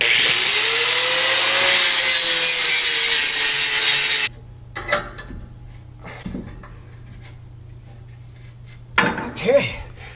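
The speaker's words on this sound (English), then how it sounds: "we got to grind it down because, as you know, when we go to weld it, it needs to be clean" An angle grinder loudly grinds a semi tractor's metal clean for welding while a pintle hook hitch is installed. The harsh, steady whine runs for about four seconds, then cuts off, leaving quieter clanks and handling noises.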